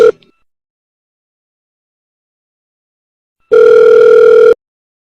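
A phone in the Sakura School Simulator video game gives a brief electronic blip. After a long silence, one loud, steady ring tone burst lasts about a second.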